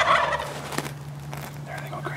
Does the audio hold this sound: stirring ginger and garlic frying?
no